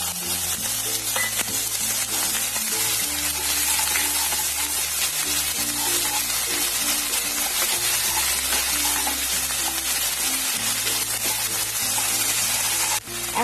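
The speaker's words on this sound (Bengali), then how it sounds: "তারপর পেঁয়াজ বাটাটাও দিয়ে দিলাম।" Onion paste frying in a pan with ginger paste and chopped onions for a Bengali charapona fish curry, a loud, steady sizzle with spatula scrapes and stirring clatter throughout, no talk.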